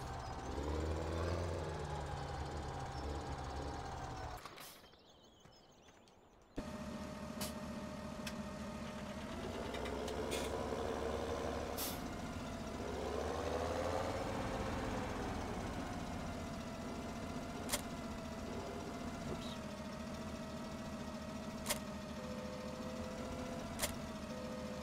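Farming Simulator 17 tractor engine droning steadily as it drives and parks in a forestry game, with a brief cut to near silence around five seconds and a few sharp clicks later.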